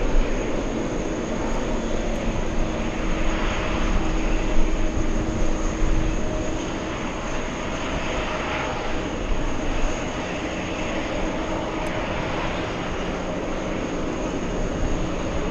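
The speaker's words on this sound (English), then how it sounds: "Big American Airlines 777 flying in from Milan" A big American Airlines Boeing 777 flies in, giving a sustained jet rumble and whine that swells early, eases a little in the middle and holds steady after, with no talk over it.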